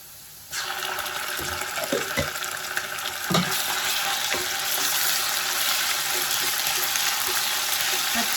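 Ginger garlic paste drops into hot oil with golden-brown fried onions for a spicy Telangana brinjal gravy, setting off a sudden, steady sizzle with a few scraping stirs over it.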